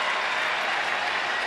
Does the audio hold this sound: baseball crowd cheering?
yes